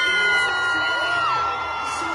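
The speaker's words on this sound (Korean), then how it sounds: "화면에 BTS가 나오자마자 주변에서 비명에 가까운 함성이 터지는데" In a public square where people gathered on screen to watch a football match, the crowd erupts in shrill screams and whoops as BTS appears for the halftime show, a loud, sustained roar of mixed voices.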